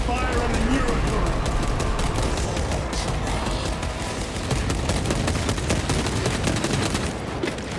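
Gunfire in Warhammer 40K Space Marine 2: a constant loud barrage of rapid shots and heavy impacts throughout, with a voice talking over the combat.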